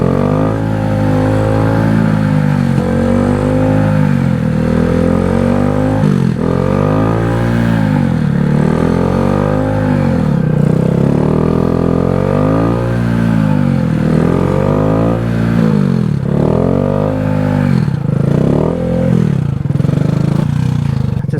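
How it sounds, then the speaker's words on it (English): Honda Grom motorcycle engine revving hard with the throttle, rising and falling in repeated surges, loud and close throughout, with no voices over it. "To get it up, you're gonna have to give it a lot of throttle, and then you're gonna kind of just let off the throttle"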